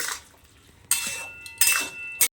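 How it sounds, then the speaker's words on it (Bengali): Shapla (water lily) curry with ground mustard and chilli is stirred in a pan: three short, sharp scrapes and clatters of a utensil against the pan, separated by quiet pauses. "দিয়ে এবার আমি শাপলাটাকে নেড়ে নেব"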